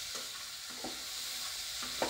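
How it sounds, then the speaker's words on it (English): Goat meat stirred in hot cooking oil gives a steady broadband sizzle with a few soft scraping stir strokes spaced through it, close and without talk. "stir the meat"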